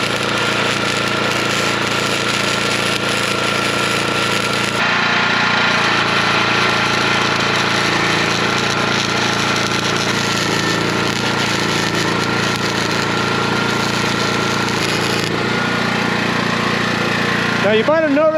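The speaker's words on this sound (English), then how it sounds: "So with a MIG, you can actually cool it down a little bit by running your wire a little bit longer between the tip and the arc." Steady, loud crackling hiss of MIG welding on rail pieces continues for a long stretch with only small breaks, a bright buzzing texture throughout and a few faint clinks at the very end.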